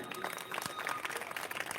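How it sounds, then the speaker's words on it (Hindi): An audience at a Shrimad Bhagwat Katha religious gathering in Muradnagar, Ghaziabad, bursts into hearty applause, a dense, even wash of many hands clapping in a large crowd. "इनके लिए जोरदार तालियां।"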